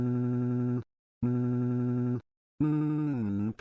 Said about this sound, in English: Answer the damn phone, man.